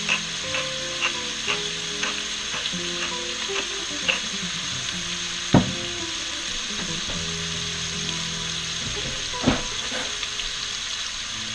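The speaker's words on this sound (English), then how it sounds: "We want to make sure we're constantly stirring our cheese sauce." A utensil stirs cheese sauce in a pan for chicken carbonara, giving a soft continuous sizzle with repeated light scrapes and a few sharper clinks against the pan.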